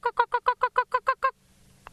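A person on a sunrise safari imitates a yellow-billed hornbill's call: nine close, hoarse clucking hoots in a quick, even rhythm, followed by near silence.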